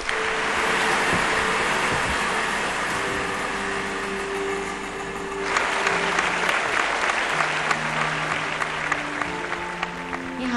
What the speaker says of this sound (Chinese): 我们掌声把他的妈妈请出来好吗